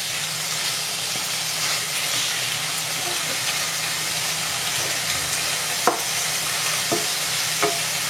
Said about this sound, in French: Je mélange bien et je laisse cuire pendant 5 minutes.